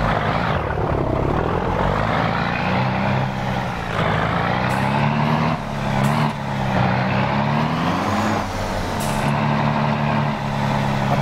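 A VW Constellation 33.440 truck hauling a special-load trailer in Euro Truck Simulator pulls away, its steady diesel drone and gear changes rising and falling loudly throughout with no talk over it.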